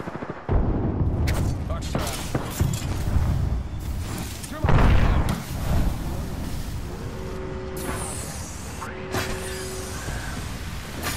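Frag grenade explosions in Apex Legends, several heavy booms and bursts of gunfire amid a firefight, with a big blast near the middle and character voices speaking over the action.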